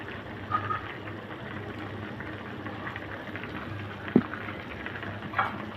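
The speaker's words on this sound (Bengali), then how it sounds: "দেখুন তরকারিটা কিন্তু বলক এসে পড়েছে" A pot of pangas fish and radish curry bubbles at a steady boil, a soft continuous simmering hiss with a few sharper pops and clinks close by.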